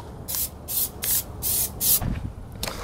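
Plasti Dip sprayed from a spray can with a new nozzle onto Enkei wheels for a Subaru WRX, five short loud hissing bursts in a regular rhythm, close by, with a brief clatter near the end.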